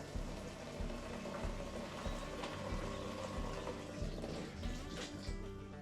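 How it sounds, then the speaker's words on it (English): Electric gas pump running as it fills a gas can, a steady, quiet liquid-flow hum with a faint rhythmic pulsing from the pump underneath, continuous and unbroken, with no voices. "So now, let's push the on button. There it goes, it's pumping."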